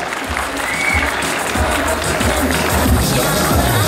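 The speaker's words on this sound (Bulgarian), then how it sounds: "Аплодисменти за Ивана." Dense, steady applause from a crowd at the Rose Queen pageant in Karlovo fills the whole stretch, loud and continuous with no clear pauses.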